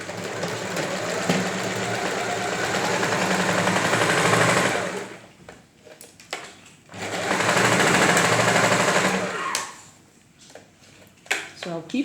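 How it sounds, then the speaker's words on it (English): Sewing machine stitching blouse fabric, a steady loud motor whir running in two long bursts with a pause between, then brief handling clicks near the end. "So I'll keep sewing to where I want it to stop."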